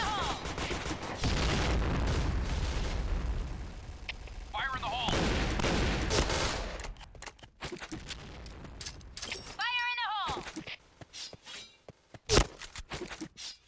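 Rapid gunfire and explosions from the online shooter game Point Blank crackle in dense bursts, loud at first and then thinning into sharper scattered shots with a final boom, while game sound effects chirp in between.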